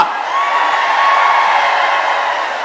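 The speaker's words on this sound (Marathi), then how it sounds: "सगळे जोरात टाळ्या वाजवा" Loud, steady wash of a large crowd at a political rally honouring Ahilyadevi Holkar's birth anniversary, clapping and cheering without a break from start to finish, with no voice above it.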